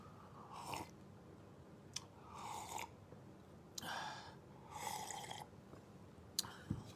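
Black seed (habbatus sauda) being chewed close up, a few separate bursts of crunchy mouth noise with pauses between them, over a quiet room hiss and with no talking.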